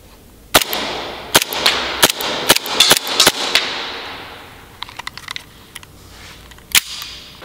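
An airsoft P38 pistol fires a series of sharp, distinct pops, about a dozen shots at irregular intervals, some clustered and some spaced apart, fairly close and clear against a quiet background.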